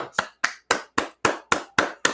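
Eight sharp hand claps in a steady, even rhythm, close and crisp, with no talking.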